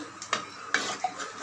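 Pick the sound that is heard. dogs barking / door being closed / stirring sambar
stirring sambar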